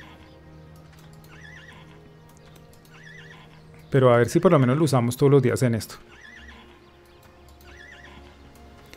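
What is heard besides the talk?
horses neighing in Albion Online video game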